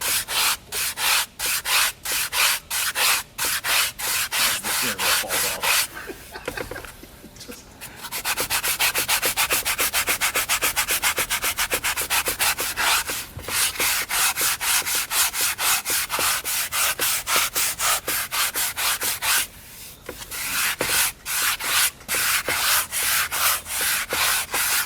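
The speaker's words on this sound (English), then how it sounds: "This is a specific leather sanding pad" Sanding pad rubbing over a rough-finish leather steering wheel of an E30 BMW M3 Sport Evolution, 1000 grit, in rapid steady back-and-forth strokes, loud and close, with two short pauses.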